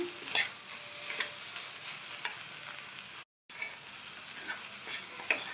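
A cauliflower and pea stir-fry is stirred in a pan, with a steady close sizzle and soft scraping and clinking of the spoon, broken by a brief moment of silence midway.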